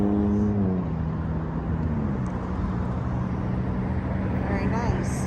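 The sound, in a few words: road traffic with trucks and motorcycles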